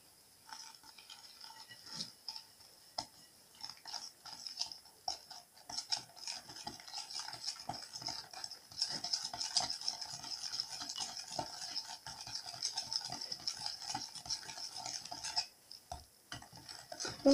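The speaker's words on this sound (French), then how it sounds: "Ensuite, je viens mélanger avec mon fouet." Yogurt cake batter with small fruit pieces whisked steadily in a bowl, a busy, close rattle of wire strokes that keeps up for the whole stretch, fairly quiet, with no voices.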